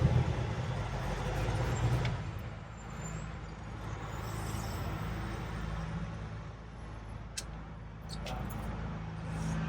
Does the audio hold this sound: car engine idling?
yes